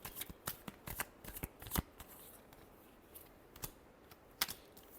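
A deck of tarot cards shuffled up close, with a fast flurry of crisp riffling snaps that thins into scattered soft flicks and slides, quiet and unaccompanied by speech.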